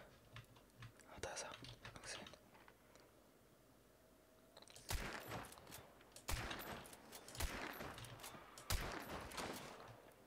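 A Winchester rifle fires in Hunt: Showdown, several sharp loud shots in the second half with mechanical handling between them, after a quieter stretch with soft speech and clicks.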